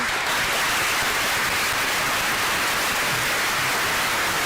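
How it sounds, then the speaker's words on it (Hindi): An audience at a prize distribution for a one-act drama competition applauds a prize winner, a dense, steady wash of many hands clapping together at even loudness throughout, with no voices over it. "जोरदार तालियां नाइमा के लिए।"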